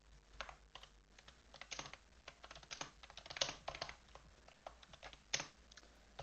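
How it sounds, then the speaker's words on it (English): Rapid, irregular clicking of fingers typing on a computer keyboard, close and quiet, with uneven bursts of keystrokes and no talking. "I can't type on fucking keyboard properly"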